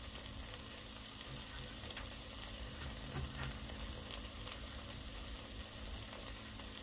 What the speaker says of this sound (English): Now I'm gonna add in my garlic